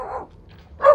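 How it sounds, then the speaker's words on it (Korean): A dog at an empty rural house barks twice in quick succession, sharp and fairly close, with a short quiet gap between the barks. "개는 있네 또."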